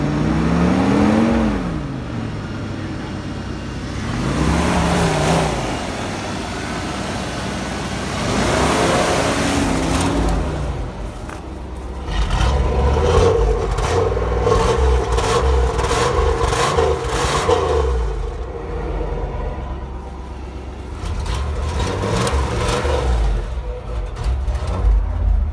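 A 1996 Ford F-350 with a 7.5L 460 V8, restarted after sitting over a year, runs loud and close with a rough, surging idle and repeated revs that rise and fall, no talk over it.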